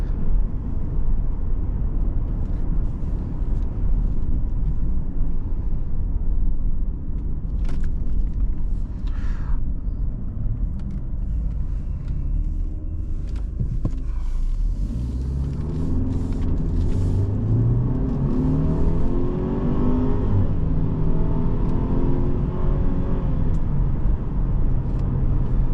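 A 2020 Mercedes-Benz GLE 350 with a torque-converter automatic accelerates in sport mode, its engine droning low and steady inside the cabin, then rising through a gear change with climbing engine tones.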